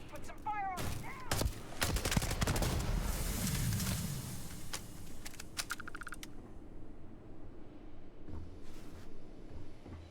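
Rapid gunfire in the sci-fi video game Starfield, a dense volley of shots early on that thins into scattered bursts and clicks, with voices calling out during the firefight.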